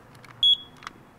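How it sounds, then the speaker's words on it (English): A single short, high-pitched electronic beep from a smoke alarm test, sharp and clear amid quiet clicks and handling noise. "check your own smoke alarm. Just give the test button a little press"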